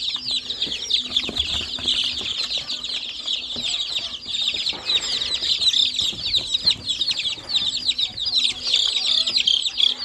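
Chickens in a brooder cluck and chirp in a busy, overlapping chorus, close and steady throughout, with occasional soft wing flutters and light handling noise.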